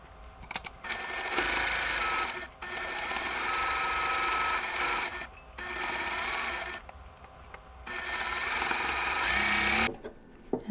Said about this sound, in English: I flip it around and I sew the other side